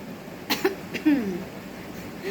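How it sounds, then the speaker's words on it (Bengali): A person with a cough coughs twice in quick succession, close and fairly loud, followed by a short throat-clearing sound in a quiet room. "কাশিটা একটু বেশি হয়ে গেছে।"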